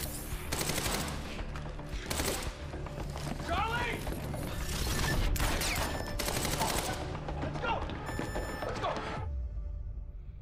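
Gunfire in the video game Quantum Break, rapid bursts of shots crackling over game machinery and effects, with a player's voice talking throughout.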